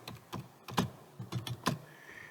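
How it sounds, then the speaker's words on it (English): Typing on a computer keyboard, several quick key presses in an uneven rhythm, close and fairly quiet, with no talking. "So we will type in southwest."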